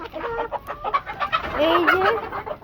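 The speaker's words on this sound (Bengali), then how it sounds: "আমাদের সাদা মোরগ এই যে মোরগ" A white rooster clucks close by in a series of short, uneven calls that end in a drawn-out, rising cluck, with no talking over it.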